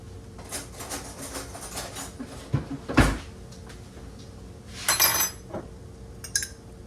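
In a kitchen, someone rummages for a spoon: a cupboard thuds and cutlery clinks against dishes, in a few distinct clatters and a bright jingle, with no talking.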